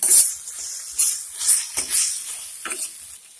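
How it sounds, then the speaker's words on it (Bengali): Spice masala for dhaba-style dal tadka fries in oil, a bright steady sizzle with several soft scraping stirs repeating about every half second. "যতক্ষণ তেল ছেড়ে দেবো ততক্ষণ পর্যন্ত এভাবে ভাজতে থাকবো"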